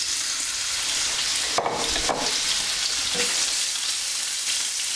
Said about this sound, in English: Keep that sizzle going for maybe about 4 minutes until the bacon gets really crispy.